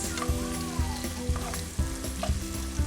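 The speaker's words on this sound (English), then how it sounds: "So now our onions is well sauteed." Onions sauté with ginger and garlic in a pan for jollof rice: a loud, continuous close sizzle with rhythmic scraping strokes of stirring.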